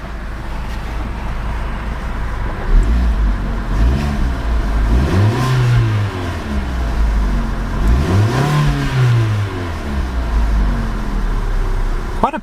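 A 2012 Fiat 500 Lounge with a 1.4-liter engine is revved while parked: a steady idle rises into two separate revs that climb and fall back, loud and close.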